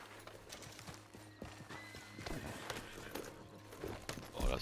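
Horse hooves clip-clop in an irregular walking rhythm in Red Dead Redemption 2, fairly faint, with a soft neigh and game-like ambience.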